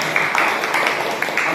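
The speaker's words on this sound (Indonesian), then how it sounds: "Oke, tepuk tangan untuk kita." Audience clapping for a school teachers' session on positive culture, a steady wash of many hands at moderate level with no one speaking over it.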